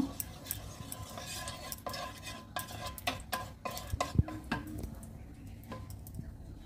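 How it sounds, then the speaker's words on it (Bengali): A spoonful of ghee melts in a hot pan on a gas stove while a utensil stirs it, making soft, faint scraping and clicking strokes at an irregular pace, with no talking. "প্যানটা আমার গরম হয়ে গেছে, তাতে আমি 1 চামচ ঘি দিয়ে দিলাম।"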